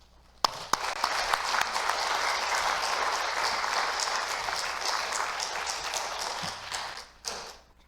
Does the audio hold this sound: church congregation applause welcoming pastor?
yes